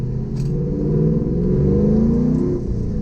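A Pontiac Trans Am WS6 V8 with a BTR stage 3 cam and Kooks headers revs steadily with a deep, throaty rumble, the pitch climbing gradually over a few seconds before easing off.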